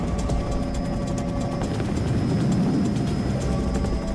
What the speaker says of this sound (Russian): Как только вертолет поднимается в воздух